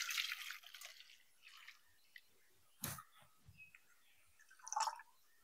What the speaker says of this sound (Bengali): এটা এবার আমি জল ছেঁকে নেবো।